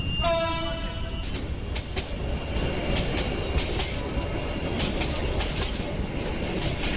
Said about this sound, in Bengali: হর্ন বাজিয়ে ট্রেন চলতে শুরু করলো।